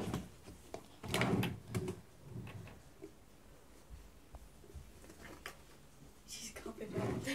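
A drawer being opened indoors, heard as a few soft sliding scrapes and light wooden knocks, quiet and close, with faint rustling and small clicks around them.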